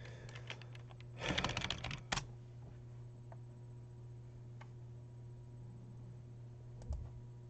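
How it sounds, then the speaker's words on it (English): Someone types on a computer keyboard, entering Spanish text: a dense burst of quick key clicks early on, then a long stretch of steady background hum with only a couple of isolated taps near the end. "So I'm going to try to type in Spanish and see if that works."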